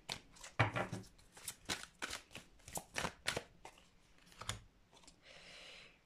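Tarot cards are shuffled by hand before a final card is drawn, a close series of quick riffling snaps and flutters followed by a soft sliding swish, quiet with no talking.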